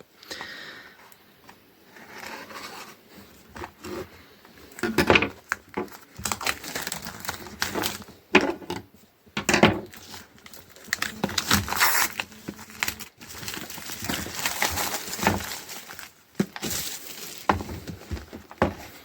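Packaging for a Xiaomi cordless screwdriver is handled and opened, with irregular crinkling, rustling and crackling of plastic and cardboard. It comes in close, uneven bursts separated by quieter gaps.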